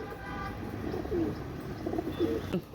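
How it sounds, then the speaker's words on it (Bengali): A baby pair of Pakistani White Golden pigeons coo softly nearby, with a few low, rolling calls spaced across a short, quiet moment. "এই পাকিস্তানি হোয়াইট গোল্ডেনের বেবি পেয়ারটা আমি একটু ছেড়ে দেখাই"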